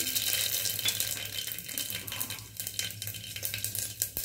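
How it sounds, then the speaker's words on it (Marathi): Mustard seeds dropped into hot oil in a pressure cooker, a steady close crackling and sizzling hiss with small pops throughout, no voices. "तर आता आपण त्याच्यामध्ये एक चमचा मोहरी टाकून घ्यायची"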